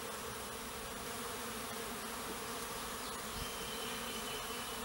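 A honey bee swarm drones in a dense, continuous buzz around a bait box, steady and even throughout with no voices.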